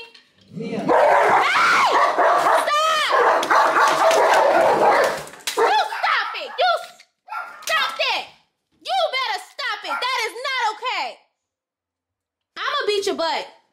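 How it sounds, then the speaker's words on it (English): Dogs fight and bark, loud snarling and yelping in bursts, while children and adults shout over them. "Dogs are fighting."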